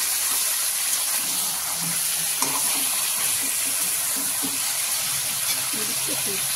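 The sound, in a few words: chicken pieces frying in a pan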